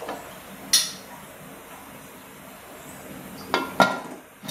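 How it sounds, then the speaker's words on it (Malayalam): A pressure cooker lid is closed in a Kerala home kitchen while chicken curry cooks, giving a sharp metallic clink, a quiet pause, then two more close clanks near the end, with no talking. "ഇപ്പം ഞാൻ കുക്കർ അടയ്ക്കാൻ പോവാണ്."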